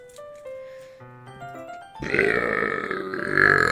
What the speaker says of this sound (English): After she burps, she reaches into her bag once more and pulls out a pocket knife.